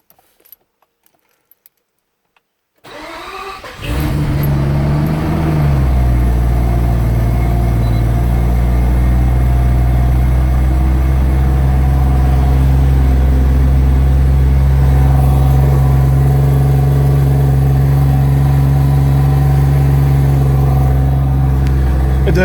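A completely cold car engine starts after a night of sitting, with keys jangling and a brief crank before it catches, then idles loudly and steadily without throttle for the rest, close by.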